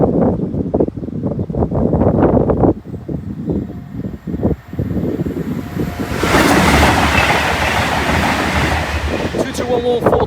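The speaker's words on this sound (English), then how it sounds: "So this next train will be the other Avanti Voyager heading the other way." Avanti West Coast Class 221 Voyager diesel train at a level crossing on a cold, windy day, a rising roar with wind buffeting that swells into a loud, broad rush of passing carriages, with people talking early on.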